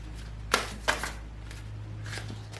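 Tarot cards shuffled by hand, a few quick papery riffles and snaps over a low steady hum, close and fairly quiet.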